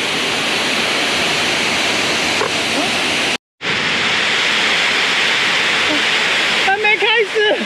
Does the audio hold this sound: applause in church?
no